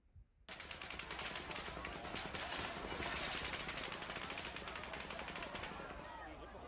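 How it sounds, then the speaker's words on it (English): Continuous automatic weapon fire at the Las Vegas mass shooting, rapid sustained bursts of crackling shots heard from a distance, starting abruptly after a moment of quiet and running on almost without pause, with faint crowd noise beneath. "you can tell by the gunfire, some of these, maybe all of them, were automatic weapons"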